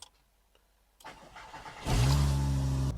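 A Volkswagen mk2 GTI swapped with a 5-cylinder engine cranks and starts, a quiet click and whir followed by the engine catching and settling into a loud, throaty idle close by.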